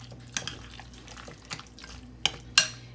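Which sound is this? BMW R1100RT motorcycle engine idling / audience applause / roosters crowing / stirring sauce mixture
stirring sauce mixture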